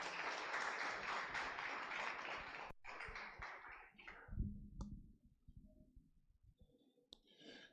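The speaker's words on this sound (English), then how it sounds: "Let's clap for him as he comes." An audience applauds a speaker at a session on clean cooking in Ghana: dense, steady clapping for about four seconds, then it thins out into a few scattered claps and clicks before the room falls quiet.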